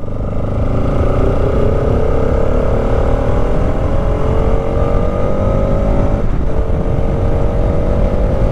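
A 2024 Bajaj Pulsar RS 200 motorcycle engine drones loudly and continuously while riding, the pitch climbing gradually through a gear, dipping briefly at a shift, then rising again over steady wind roar.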